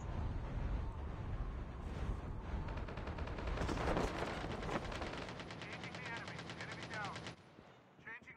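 Rapid bursts of automatic gunfire in a Call of Duty Mobile battle royale match, loud and nearly continuous with overlapping shots and clattering reports, and a voice speaks over the action.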